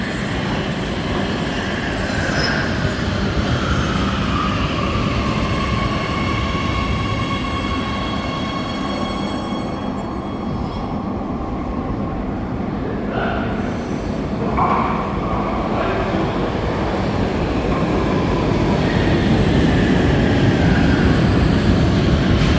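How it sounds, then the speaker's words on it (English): A train rolls past steadily for over twenty seconds, with loud continuous rumble, rail clatter and faint high wheel squeal, growing slightly louder toward the end. "I think it's the same trains as in Vienna, as far as I recall."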